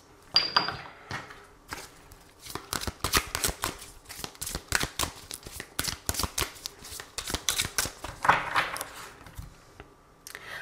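Tarot cards being shuffled, a dense run of crisp riffling and flicking bursts in quick irregular rhythm, close and fairly loud, with no talking over them.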